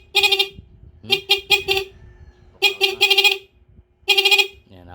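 Several short horn honks from a Smash 115 motorcycle with a faulty battery, in separate bursts, a couple of quick toots then longer blasts, loud and close with quiet gaps between.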